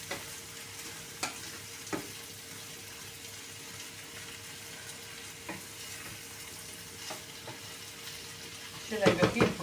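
Onions with a little water and sliced mushrooms fry in a pan while being stirred, a steady close sizzle with occasional scraping taps and a burst of clattering stirring at the end.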